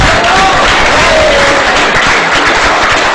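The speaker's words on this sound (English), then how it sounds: "Give a round of applause." An audience at a competitive gaming event breaks into steady, dense applause, loud and sustained throughout with a crowd murmur mixed in.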